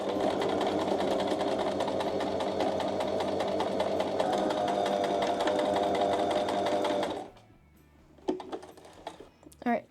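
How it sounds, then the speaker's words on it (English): A sewing machine stitches a straight line on a pair of pants, its steady rapid whir running loud and continuous for about seven seconds before stopping, followed by a few faint handling clicks. "And I'm just going to sew a line."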